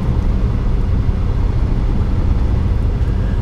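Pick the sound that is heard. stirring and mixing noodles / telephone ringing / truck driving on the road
truck driving on the road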